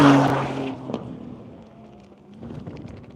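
A Corvette race car engine roars loudly at first, then recedes into the distance, its tone fading to a low drone before another engine rises faintly.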